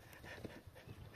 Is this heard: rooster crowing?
no